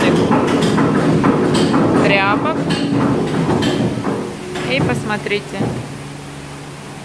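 Heavy hammers pound old textile rags into pulp at a paper mill, a loud dense mechanical din with steady rumbling thuds and clatter running throughout while someone talks over it.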